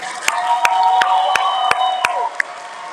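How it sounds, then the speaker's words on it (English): A group applauds a police officer at a school event, with sharp, evenly spaced claps about three per second and high cheering voices over them. "for a round of applause for Officer Bileson for joining us today"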